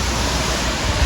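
Water from a hose gushes steadily into the fill point of a narrowboat's water tank, a dense, continuous rushing wash close by, with no voices.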